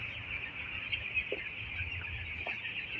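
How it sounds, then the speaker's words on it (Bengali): Twelve-day-old New Hope broiler chicks chirp in a dense, steady chorus, faint and continuous with a few brief louder peeps. "এগুলো হচ্ছে আমাদের নিউ হোপের মুরগি বাচ্চাগুলো।"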